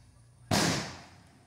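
A single firecracker bursts during Diwali celebrations, one sharp loud bang that decays over about a second, with no voices around it.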